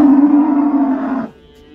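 A single long, loud moo from a cow at a livestock market, sustained and tonal before breaking off abruptly, followed by quieter background.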